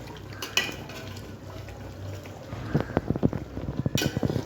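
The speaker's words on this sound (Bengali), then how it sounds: "মাটনে আলু দিয়ে দিয়েছি, দিয়ে কষছি" Mutton and potatoes are stirred and browned in a pot for kosha, with a ladle scraping and clattering against the metal. The sizzling rises into a busy run of scrapes near the end.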